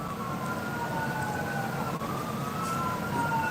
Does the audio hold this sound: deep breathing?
no